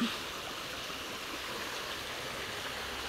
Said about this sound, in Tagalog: nandito na po tayo sa may tabing sapa